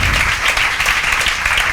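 A classroom full of students gives loud, dense applause for a classmate, with the clapping thick and continuous throughout and nothing else heard.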